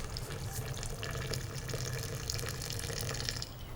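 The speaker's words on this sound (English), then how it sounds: "as you put the water in, listen to the resonance" Water pours steadily into a teapot for a few seconds, a continuous splashing stream with a hollow, resonant ring and no voices.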